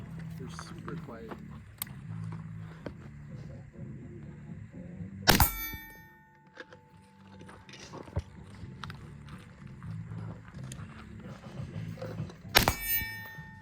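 Quiet suppressed gunshots at an outdoor shooting range, two sharp cracks spaced several seconds apart amid steady conversation, with people talking throughout.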